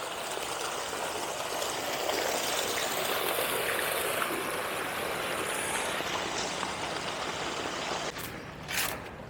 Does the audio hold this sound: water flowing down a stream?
yes